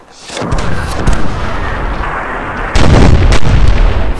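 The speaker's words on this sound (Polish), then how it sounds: "A może spróbujmy wykorzystać te materiały wybuchowe." Explosives detonate on a battlefield in the fantasy strategy game Myth II: Soulblighter, a loud rumbling barrage of booms that swells to an even heavier blast near the end, with no talking.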